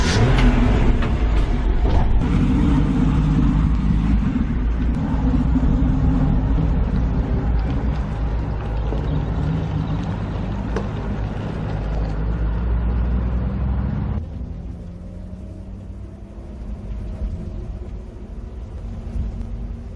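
A 1965 Ford F100 pickup truck's engine drones steadily while driving, a loud low rumble filling the whole stretch, then dropping to a quieter, smoother hum for the final few seconds.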